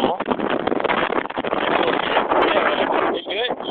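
Wind rushes past a paraglider flying close to trees and through a thermal, a steady close-up roar buffeting the microphone for the whole stretch.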